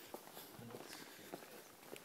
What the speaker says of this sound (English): I swear I heard footsteps back there.